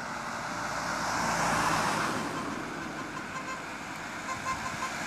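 Car horns toot from oncoming traffic passing a half-road blockade protest in Szekszárd, short honks over a rising and falling roadway rumble, moderately distant.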